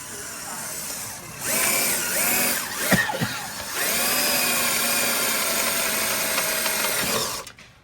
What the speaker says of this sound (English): Now I'm going to drill the real hole.